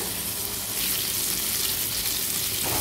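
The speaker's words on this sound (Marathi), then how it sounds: "आता मागची बाजू पण मीडियम फ्लेमवर व्यवस्थित फ्राय करून घेऊया।" Fish cutlets fry in oil in a pan over a medium flame, giving a steady, close, continuous sizzle with no pauses and no voices.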